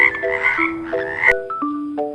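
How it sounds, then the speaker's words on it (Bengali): A frog croaks loudly and repeatedly up close, layered over a sequence of clear chiming musical tones. "উময় ব্যাঙ"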